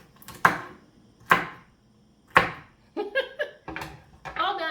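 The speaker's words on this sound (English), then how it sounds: "I actually cut up the stems too." A knife chops through collard green stems on a cutting board, three sharp, spaced thuds up close, followed by a quicker run of lighter cuts and scraping.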